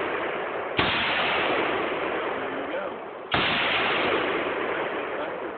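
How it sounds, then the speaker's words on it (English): Two loud WWII Bren gun shots ring out outdoors, roughly two and a half seconds apart, each a sharp crack followed by a long, rolling decay. "Shooting out there now."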